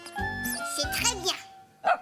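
A cartoon puppy gives a few short yapping barks from the children's show Caillou, mixed in among a child's and an adult's speaking voices, with a brief sharper yelp near the end.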